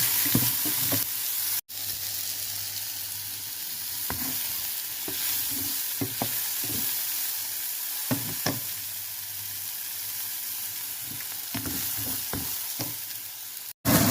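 Straw mushrooms fry in butter with bird's eye chili and spring onion, a steady sizzle running under repeated scraping and stirring strokes of a spatula in the pan, close and continuous.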